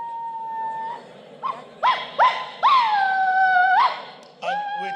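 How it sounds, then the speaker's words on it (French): A dog nearby howls in drawn-out, rising cries broken by short yelping whimpers, loud and alone with no other sound. "Vous entendez l'aboiement d'un chien."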